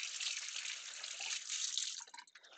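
Tap water runs and splashes while a plastic well plate is rinsed at a sink, a close, steady hiss that breaks into scattered drips and splatters as the flow stops.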